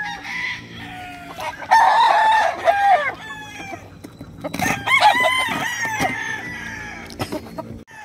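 Rooster at a game farm in Tanauan City, Batangas, crowing loudly and close, two long cock-a-doodle-doo calls with clucking and farm background between, faint voices nearby.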